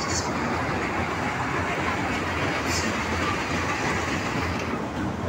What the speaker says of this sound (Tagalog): dito mga guys, ayan yung horror train